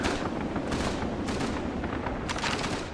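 Rapid bursts of gunfire from the Call of Duty 3 video game, dense and continuous with sharper volleys recurring, loud throughout the three seconds with no talking.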